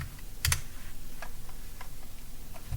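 A computer keyboard key is pressed during CAD drawing work, giving one sharp, close click near the start, then faint scattered ticks of lighter typing under a low room hum.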